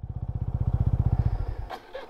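A new TVS Apache RTR 200 motorcycle engine thumps in a fast, even low pulse close by, then fades out before a brief clatter at the end.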